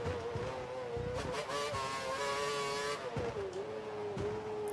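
A Formula One race car engine in the F1 2012 video game whines at high revs, repeatedly climbing and dropping in pitch as the car shifts gears and brakes, heard fairly faint and steady throughout.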